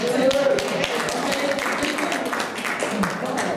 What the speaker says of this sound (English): Can I get a shout or just a clap?